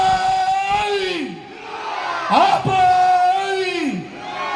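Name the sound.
audience cheering on request at a stage show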